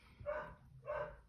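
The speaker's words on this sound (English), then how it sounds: "Max is barking." Two muffled dog barks from Max, a pet dog shut away downstairs, sounding distant and faint through a closed door, spaced about half a second apart.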